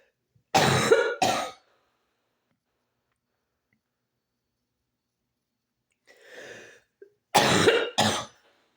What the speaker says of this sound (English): Covering my mouth when I cough.